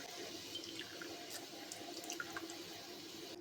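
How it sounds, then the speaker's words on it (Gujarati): Rose petal water for gulab sharbat strained through a strainer into a bowl, heard as a steady, close trickle and splash of running liquid that continues without a break. "બધું જ પાણીને આપણે અહીંયા ગાળીને લઈ લઈશું"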